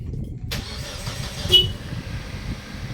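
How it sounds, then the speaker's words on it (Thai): A Mitsubishi engine is started with a push-start button, a short crank catching after half a second and settling into a quiet idle, heard up close. "เวลาเราสตาร์ทรถเบิ้ล หรือว่าเราเอาเอาเราจะกดแช่ก็ได้นะครับ"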